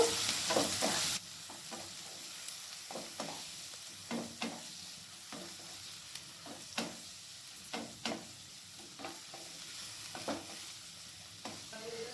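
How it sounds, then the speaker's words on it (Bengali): Finely chopped onions frying with whole cumin seeds in a pan, a low, steady sizzle punctuated by frequent spoon scrapes and taps in an irregular stirring rhythm, close and fairly quiet. "আমি এখানে পেঁয়াজটাকে ভালো করে ভেজে নেব"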